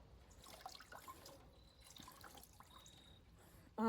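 A pepper plant is dipped into a bucket of water mixed with a diluted treatment, giving faint, close sloshing and dripping trickles, ending in a sudden louder noise.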